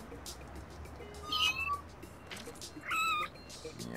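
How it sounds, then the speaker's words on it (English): A cat in the video game No More Heroes lets out two distinct meows about a second and a half apart, clear over a low game background hum. "the cat just ran the hell away, freaked out"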